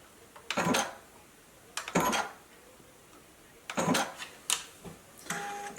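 A JUKI sewing machine stitches a face mask in several short bursts of rapid mechanical whirring, separated by quiet pauses, heard close up without talk.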